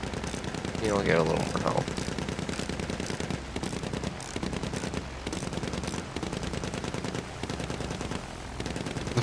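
Machine gun fire in Battlefield 1 rattles in a steady rapid stream of close shots with brief pauses between bursts, while a player talks over it.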